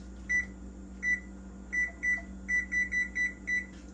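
A kitchen timer set for a cooking pan gives a string of short electronic beeps, single then quicker repeated chirps, close and clear over a low steady hum.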